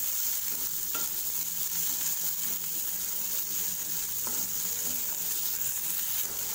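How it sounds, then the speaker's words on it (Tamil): Onions are frying over a low flame for a spicy tomato chutney, sizzling steadily and close by, with occasional scrapes and stirs of a spoon against the pan and no talking. "லோ ஃப்ளேம்லேயே வெங்காயத்தை லேசாக வதக்கிட்டோம்."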